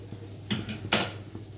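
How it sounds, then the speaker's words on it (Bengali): Cooked moong dal is added to a pot of boiled papaya, heard as two or three quick scraping and clinking bursts of a utensil against the pot over a low kitchen hum. "এবার আমি এই কাটা দেওয়া ডালটা দিয়ে দিলাম।"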